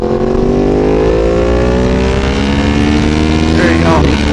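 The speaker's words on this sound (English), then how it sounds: "So let's see if we can get it to start." The engine of a 2016 Yamaha R1S motorcycle is loud and close, rising in pitch as it revs steadily upward over a few seconds. A brief higher whine swells near the end.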